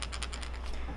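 Steel bearings rattle inside the weight transfer chamber of a handmade mahogany mouse wakebait lure, giving a quick run of small, close clicks at an even rhythm as the lure is shaken.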